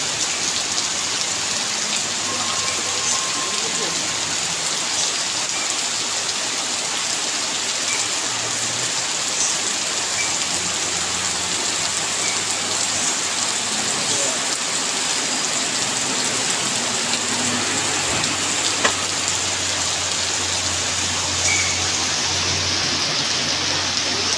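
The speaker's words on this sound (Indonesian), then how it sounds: "Dimana saat ini hujan lebat melanda Tanjaan Kedabuan." Dense, steady hiss of heavy rain pouring down without a break, loud and close, with no voices.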